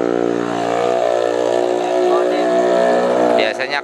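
A motorcycle fitted with a racing exhaust revs loudly and continuously, its engine tone rising and holding before cutting off abruptly near the end.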